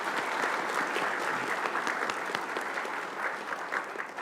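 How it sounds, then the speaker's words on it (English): An audience at a school Board of Education meeting applauds teachers with dense, steady clapping that lasts the whole few seconds, with no speech over it. "So if we could give our teachers a round of applause for their great job."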